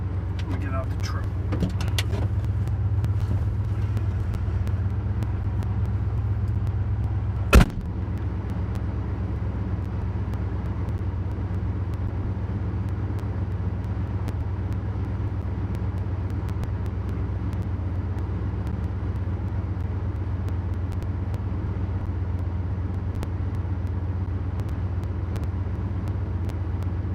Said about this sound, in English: exhaust is rattling off the truck